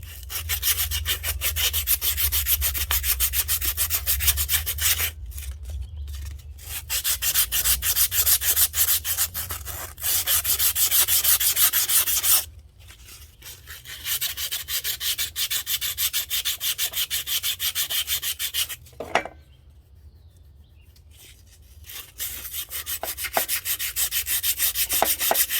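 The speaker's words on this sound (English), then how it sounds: "I'm using some 240 emery cloth, okay, and on this shaft right here." Steady back-and-forth rubbing of 240-grit emery cloth against a rusty metal shaft on a Kawasaki KE175 motorcycle being reassembled, loud and close, in long continuous scrubbing bursts broken by a few short pauses, with no talking.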